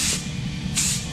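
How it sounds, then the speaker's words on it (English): Rust-Oleum spray paint hisses from a can onto a metal Harley fender in two short, loud bursts with a brief pause between, close to the microphone. "So we're going to do it cheap way, some good old Rust-Oleum spray paint."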